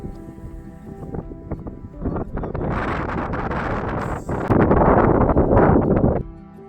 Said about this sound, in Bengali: তবে হাওয়া বইছে, মারাত্মক হাওয়া বইছে।